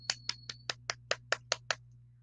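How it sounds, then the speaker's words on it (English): Classroom applause for a student: nine sharp, evenly spaced claps in a quick steady rhythm, fairly quiet over a low constant hum, with no talking. "Let's give a clap to Desa."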